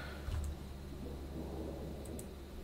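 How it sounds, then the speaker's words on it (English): A thunderstorm in the video game Mass Effect: Andromeda, with a low rumble of thunder near the start over a steady wash of rain and wind. "Not with these storms."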